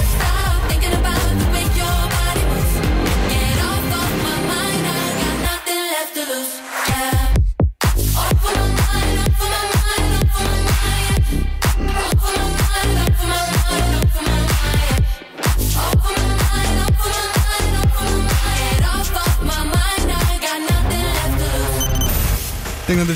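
A pop song plays loud and dense with a steady driving beat, a brief drop to near silence around the middle, then the full mix returning.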